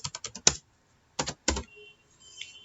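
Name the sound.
typing code on a computer keyboard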